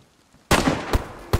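Gunfire in a first-person shooter game: a loud sharp shot bursts out after a quiet moment, followed by two more punchy shots at uneven intervals.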